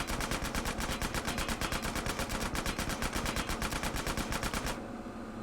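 Rapid automatic gunfire from Grand Theft Auto: San Andreas Definitive Edition, a loud, steady burst of evenly spaced shots running for several seconds before cutting off abruptly, with no talk.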